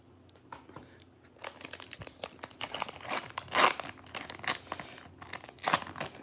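Foil wrapper of a Pokémon card booster pack crinkles and tears open in close, uneven bursts, starting quiet and growing louder, with no talking.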